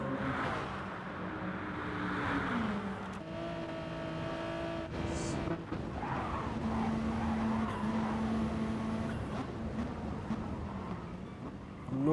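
A Mitsubishi race car in a Nürburgring 24-hour endurance racing video game roars continuously at high revs with shifting engine pitch and tyre squeal, loud and steady throughout with no talk.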